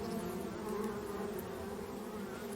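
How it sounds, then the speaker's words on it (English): Bees hum in a steady, quiet drone around a spot in a survival video game, the buzz holding evenly without speech. "Thought I just saw bees over here, but maybe not."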